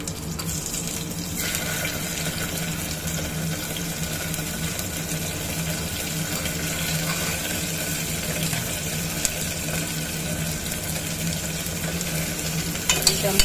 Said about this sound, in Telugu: ఇప్పుడు ఆనియన్ వేసుకుందాం. కరివేపాకు వేసుకుందాం.